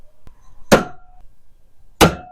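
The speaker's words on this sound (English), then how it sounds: "I'm going to center punch the holes." Two sharp metallic strikes from a hammer on a center punch marking drill holes in a Jeep TJ tailgate, each a crisp close impact with a short ringing tail, separated by about a second of quiet.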